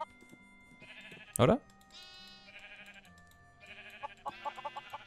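Sheep in Minecraft, including black sheep, give one loud, close bleat in the middle while someone talks before and after it, with game tones and chimes underneath.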